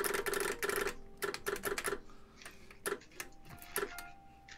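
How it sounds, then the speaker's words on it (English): Capacitive mechanical keyboard keys typed in quick bursts of crisp, clacky strikes with short pauses between runs, close and fairly loud, with no voices. "that keyboard sounds insane"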